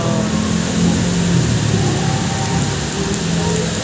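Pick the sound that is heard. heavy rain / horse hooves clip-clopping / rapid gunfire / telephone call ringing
heavy rain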